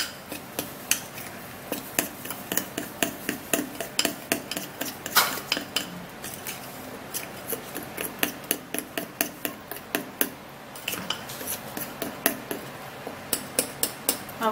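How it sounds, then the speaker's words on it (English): A spoon stirring and mixing a homemade leg-care mixture in a bowl, rapid close clinks and taps repeating in an uneven rhythm throughout, no voices. "And then I would stir and mix it up really really good."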